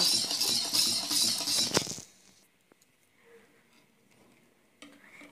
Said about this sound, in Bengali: বাকি যে চিনি যতটুকু রেখেছি ওই চিনিটাও দিয়ে দিব আর বাকি তেলটাও দিয়ে ভালোভাবে মিশিয়ে নেব